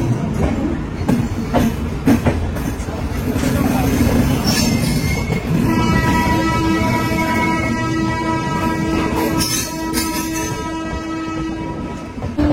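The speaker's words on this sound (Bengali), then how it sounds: "সময় হয়ে গেছে ট্রেন ছাড়ার" The Howrah–New Delhi Duronto Express pulls away, heard from on board in a sleeper coach: a steady rumble, wheel squeals and clanks, and a long tonal horn-like blare in the second half, with voices talking beneath.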